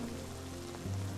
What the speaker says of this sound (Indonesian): Nggak apa-apa kalau hujan.